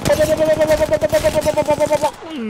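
A sustained rapid burst of automatic gunfire in Apex Legends hammers out evenly spaced shots for about two seconds, loud and close, then cuts off abruptly.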